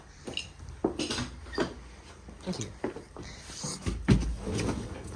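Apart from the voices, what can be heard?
car door of a reimagined Citroën 2CV opening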